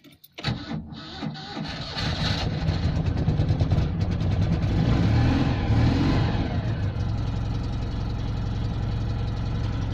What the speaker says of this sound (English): Don't like the sound of that starter motor, that's sounding a bit sticky